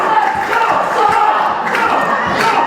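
Wrestling crowd at a UK wrestling show loudly jeering and chanting at wrestler JPR, a dense, steady roar of many voices with occasional thuds and claps mixed in.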